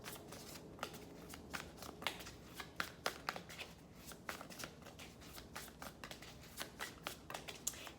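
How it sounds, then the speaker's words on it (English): Tarot cards being shuffled by hand, a soft steady riffling and flicking with irregular crisp snaps, faint and close, with no talking. "Even in shuffling the cards,"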